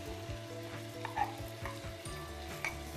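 Onion and garlic sizzle steadily in a Silit Sicomatic pressure cooker heated to high, with a few sharper crackles and clicks of stirring standing out above the continuous frying hiss.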